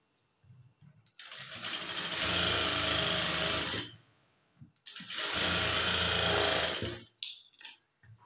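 A sewing machine stitches blouse neck lining in two loud close bursts of steady motor whirr, each lasting about three seconds, with a short pause and light handling clicks between them.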